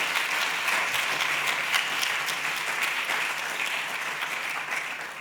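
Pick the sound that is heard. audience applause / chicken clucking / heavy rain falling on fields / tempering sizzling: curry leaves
audience applause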